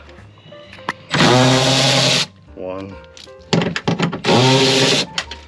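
Two loud bursts of a whirring power tool removing 10 mm bolts from a 2004-2008 Lexus RX 330 rear door panel, each about a second long, with short bits of talk in the gaps between them.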